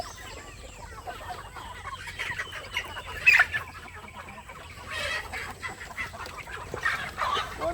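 Native chickens and roosters cluck and squawk in a barnyard of about 200-300 birds, a few louder calls standing out over steady low background noise.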